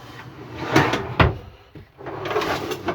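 A large drawer in a camper van kitchen slides and bumps shut with a sharp knock, followed by more sliding and rattling as it is pulled open again, close by with no talk.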